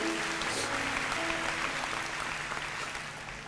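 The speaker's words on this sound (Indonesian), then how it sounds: "Beri tepuk tangan untuk Tuhan Yesus." Congregation at a church sermon applauding, a steady dense wash of clapping throughout, with a faint sustained tone and murmur underneath.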